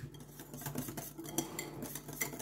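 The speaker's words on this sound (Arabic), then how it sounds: "دابا هو تضرب تخلط الياغورت" Yogurt is whisked in a bowl for a walnut cake, quick continuous clinking and scraping of a utensil against the bowl, close and soft, with no voices.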